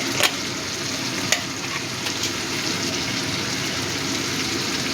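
Ginger-cumin paste fries in a pan for a mourola fish curry, a steady close sizzle with a couple of sharp clinks of the spoon near the start.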